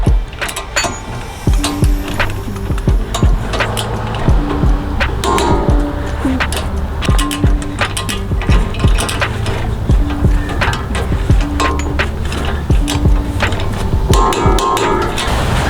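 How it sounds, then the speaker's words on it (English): A torque wrench tightens 17mm brake bolts on a first-generation Toyota Sequoia during a brake pad and rotor job, making repeated metallic clicks, ratcheting and clanks close up, with no talking. "I'm just gonna go ahead and torque down these two 17mm bolts."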